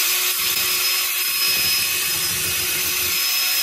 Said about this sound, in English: Low speed mixer. I'm going to mix this about 2 minutes.